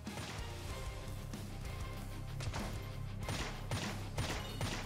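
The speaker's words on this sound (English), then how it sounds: "I'm going to spam my shotgun" A shotgun in Roblox Jailbreak fires again and again in fast succession, each loud blast piling onto the last in a dense, continuous barrage with a few harder hits standing out.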